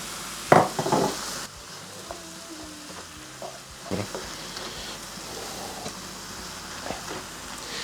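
Spinach and feta frying and sizzling in a pan with intermittent stirring scrapes and clatters, fairly close, no talking.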